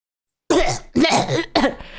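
A voice imitates a cat hacking up a hairball: three harsh, gagging cough bursts in quick succession, close and loud, after a moment of silence.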